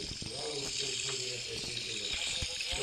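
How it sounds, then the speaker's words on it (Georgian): Water pouring into a vase inside the game Hello Neighbor, a steady tap-like running flow heard up close, with a voice talking over it. "მგონი ეს ლარნაკი ივსება და ამ წყალი ჩასმა შეგიძლია ამაშიც."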